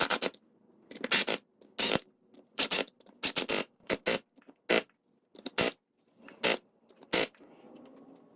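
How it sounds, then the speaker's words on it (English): Bolts being tightened on the front wheel hub of a 1984 Mercedes 300SD W126 give a run of short, sharp ratcheting and scraping bursts in an irregular rhythm, close and fairly loud, with no talking. "Put a little glove over the bearing while we tighten our bolts down."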